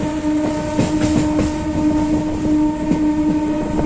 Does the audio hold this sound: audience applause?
no